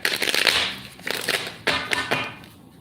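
Tarot cards being shuffled by hand, a close, papery riffling and crackling that comes in several uneven bursts over a few seconds.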